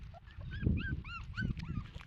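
A puppy whimpers in a series of thin, rising whines, close by, over a low rumbling background.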